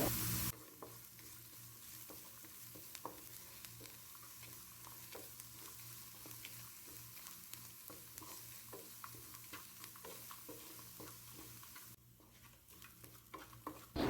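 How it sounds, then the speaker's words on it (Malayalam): Crushed prawns sautéing in a pan with curry leaves, a faint steady sizzle with frequent stirring scrapes and taps against the pan, continuing for a long stretch. "ഇനി നല്ലതുപോലെ വഴറ്റി കൊടുക്കാം"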